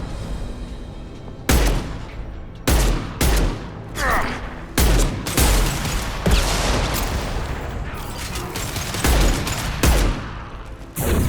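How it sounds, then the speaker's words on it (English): Mass Effect 2 combat gunfire with a concussive shot fired: a series of loud, sharp blasts separated by short gaps, each with a deep thudding low end and crackling tail. "Firing concussive shot."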